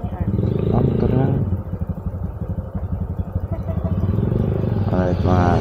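Motorcycle engine running close by with a steady mid-pitched drone and rattling clatter throughout, revving up near the end, while people talk over it.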